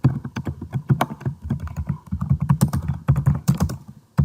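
Rapid, uneven clatter of keys on a computer keyboard while C# console code is typed, close and clear with no talking and only short pauses between bursts.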